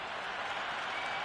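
Crowd in a Cricket 26 match, a dense wash of cheering and applause at moderate level, brief and continuous.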